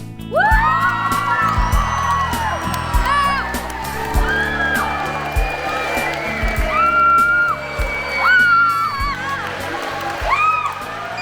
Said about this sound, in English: Wow, listen to this crowd here at DePaul School